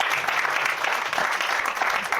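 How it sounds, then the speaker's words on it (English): Applause for Ines fills a conversation event about the future of music, a dense, steady clatter of many hands clapping at close range that continues without a break. "if you put Melboss into a translation AI bot, it will tell you that it's a round of applause"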